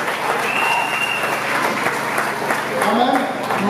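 A congregation at a church thanksgiving service applauds and cheers, steady dense clapping with voices mixed in throughout, fairly loud and sustained.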